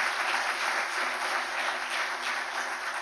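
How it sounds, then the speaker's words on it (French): Steady, dense applause from a crowd at an awards ceremony, sustained throughout without pause, fairly close and even in loudness. "Vous pouvez l'applaudir"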